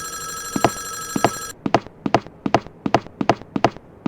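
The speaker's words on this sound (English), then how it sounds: "because I know there's a phone call" Telephone ringing in the horror game Five Nights at Wario's, a bright electronic bell in repeated regular bursts, loud and close, with no talk over it.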